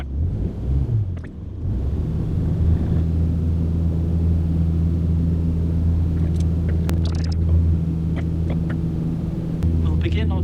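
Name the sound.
aircraft engine during takeoff, Microsoft Flight Simulator video game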